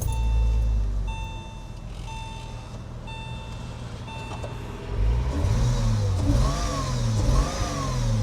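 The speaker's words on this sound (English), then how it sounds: "Let's go ahead and fire up the engine and see if it's still acting up." A 26-year-old Porsche engine idles roughly with a misfire, its low uneven drone accompanied by steady chime beeps, then revs rise and fall in wavering pitch sweeps, close and fairly loud.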